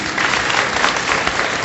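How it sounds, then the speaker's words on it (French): Loud, dense audience applause at a public conference, a continuous even roar of many hands clapping close by, with no speech over it. "Sous vos applaudissements"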